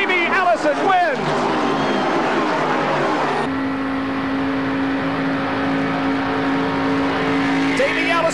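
Stock cars race around a track, their engines roaring loudly and steadily, with a deep sustained drone that shifts pitch as the pack passes, while an excited commentator talks over the noise throughout.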